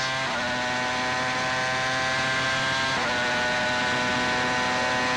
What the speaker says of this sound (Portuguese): Você vai sentindo o motor da Jordan, ainda não é a evolução nova, a mais recente, mas dá para curtir, sentir a aceleração, as mudanças de marcha